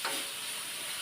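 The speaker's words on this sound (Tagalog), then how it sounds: "gisa-gisa po muna natin hanggang naging brown-brown na po ang ating karne" Ground pork sautéing in a pan for a stir-fried bean sprout dish, giving a steady close broadband sizzle and crackle that runs the whole time with no talk.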